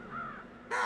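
Crows caw in the Paper Mario: The Thousand-Year Door video game, a steady harsh cawing that swells louder near the end, with no talk over it.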